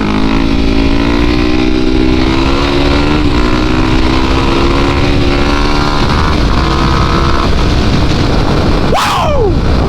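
Supermoto motorcycle engine running steadily and loud throughout, with rising and falling revs and a sharp rev spike near the end.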